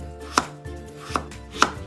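Three crisp knife cuts thinly slice sausage on a cutting board at an uneven pace, close by, with a faint low hum between them and no talking.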